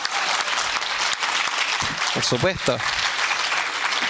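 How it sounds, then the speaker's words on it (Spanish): Audience applause for a Catholic university group at a Valparaíso percussion show, steady broadband clapping throughout with a brief spoken phrase in the middle. "¡Un aplauso para la Universidad Católica!"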